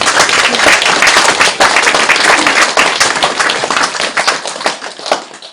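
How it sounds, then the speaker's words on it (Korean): A crowd at a Buddhist dharma talk on the Diamond Sutra bursts into sustained applause, dense steady clapping filling the whole stretch at close range, loud and continuous before tapering slightly at the end. "박수 쳐라 이 밤들."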